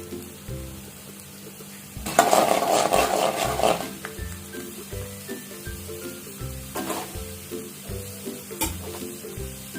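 Seasoning fries in a pan for beetroot chutney, with a burst of loud sizzling near the start that fades into steady stirring and scraping. Music plays beneath.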